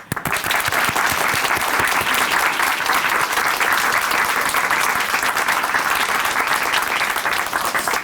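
An audience in a church broadcast bursts into strong, continuous applause, a thick steady clatter of many hands held at full volume throughout.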